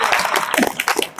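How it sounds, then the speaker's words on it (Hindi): An audience applauding at an indoor product information event, a short burst of close, uneven clapping with some voices mixed in. "एक जोरदार ताली होनी चाहिए इनके लिए"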